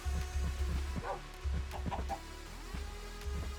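Clucking chicken in Sky Factory 4, a Minecraft modpack, giving several short, close, fairly loud clucks in an uneven rhythm with brief gaps, mixed with rhythmic low thumps.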